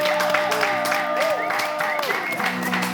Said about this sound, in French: Je veux vraiment qu'on applaudisse